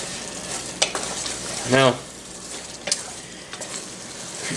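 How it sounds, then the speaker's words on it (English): Chili cooks in a camp pot with a low sizzle and bubbling under scattered clinks of a utensil, plus one brief scraping stir in the middle, close by. A voice says a single word. "Let that come to a simmer."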